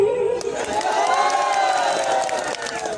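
Crowd at a live rai folk music stage show cheering and shouting, a dense roar of voices with some clapping blended in, sustained and fairly loud throughout.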